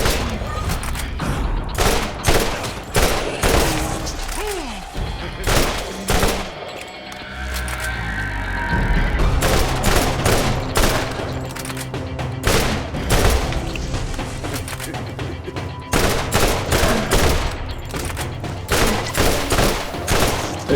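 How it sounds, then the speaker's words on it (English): An assault shotgun fires in the Borderlands video game in rapid bursts of booming shots, loud and close, with a brief lull in the middle before the volleys resume and continue to the end. "Takes almost an entire mag just to stun every single shot hitting the carapace."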